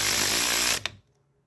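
A cordless electric driver whirs steadily while driving screws during an encoder motor replacement on a 2001 Chevy Blazer, then spins down and stops with a short click, close and loud.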